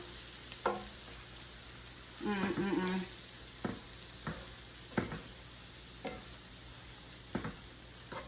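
Fried cabbage and butter noodles being stirred in a skillet. A few separate scraping stirs and one longer rustling stir come through at moderate volume over a faint steady background, with no talking.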